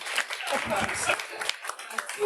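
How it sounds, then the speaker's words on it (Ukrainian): Scattered audience applause at a Ukrainian improvised stand-up comedy show, moderate clapping in uneven bursts mixed with voices from the room. "супер, оплески"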